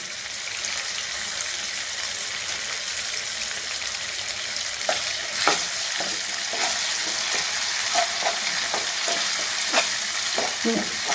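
Crushed ginger, green chili and masala fry in oil left from frying chicken for Thalassery dum biryani. A steady, close sizzle runs throughout, joined midway by repeated clacks and scrapes of a spoon stirring, with no talking.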